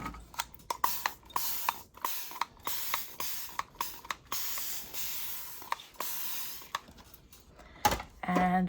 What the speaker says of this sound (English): I am going to spray it with water to get it wet